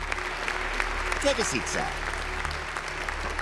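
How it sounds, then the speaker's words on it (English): Audience at a stage show in a Mr. Bean cartoon gives a round of applause, moderate clapping over a steady background while someone speaks briefly. "Ladies and gentlemen, give him a round of applause."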